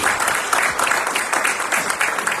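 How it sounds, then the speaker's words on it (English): A brief, lively burst of audience applause welcoming performer Joe Rathburn at a Sunday celebration service, dense clapping that stays loud and even throughout. "please join me in welcoming, big round of applause for Joe Rathburn"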